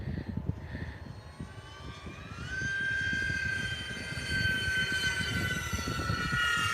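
A radio-controlled model airplane drones overhead at an AMA fundraiser flight field, its engine whine rising in pitch and holding steady at moderate distance, with low wind rumble and outdoor noise beneath.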